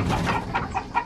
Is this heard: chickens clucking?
yes